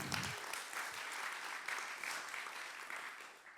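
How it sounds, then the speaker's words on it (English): Audience applause at a keynote event on just digital life, a steady wash of many hands clapping at moderate volume, sustained for the whole stretch with no voices over it. "Please give him a warm round of applause."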